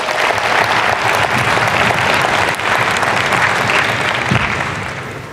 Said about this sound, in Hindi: देखा ताली बजानी पड़ती है ना